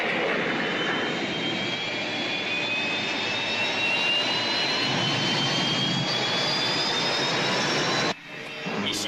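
A rescue spaceship departing with a loud, sustained engine roar and rising whine, continuous and close before cutting off abruptly near the end.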